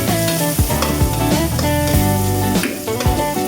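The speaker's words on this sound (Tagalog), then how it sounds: "Sa akin ginigisa ko." Garlic and onion sautéing in a pan for pork sinigang: a loud, close, continuous sizzle with stirring, over a tonal background.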